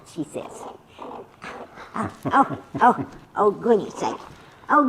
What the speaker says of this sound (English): Who's growling? She is.